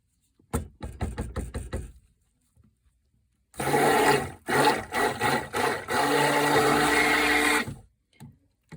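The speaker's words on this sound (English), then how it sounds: "we need to stick blend this so the white will come out" Stick blender whirring through coffee soap batter, starting with a stuttering run of short pulses, then a longer loud blending burst with a few brief breaks, up close with no talking.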